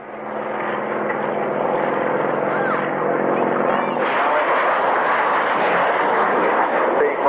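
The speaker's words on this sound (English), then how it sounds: "Rob Dean just pulling up there, and rolling." A classic jet aircraft flies an airshow display, pulling up and rolling, its loud continuous engine roar sustained throughout with a shift in tone midway, under a commentator's voice.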